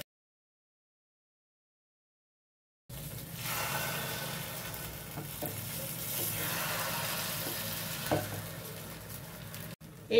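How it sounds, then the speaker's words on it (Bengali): Beaten egg sizzling and frying steadily in a hot pan on full heat for a hotel-style chilli omelette, with occasional soft scraping as it is stirred; begins after about three seconds of silence and continues at an even level. "খানিকটা গরম হলে ডিমটাকে এভাবে একটু নাড়িয়ে নাড়িয়ে দিতে হবে।"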